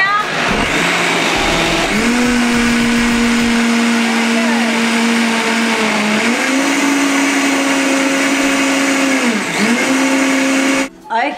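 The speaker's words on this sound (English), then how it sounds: "So it's ready. It's all been blended up." A blender whirs loudly while blending food, with a steady high motor drone whose pitch dips and rises as the load shifts, running alone for about ten seconds before stopping abruptly.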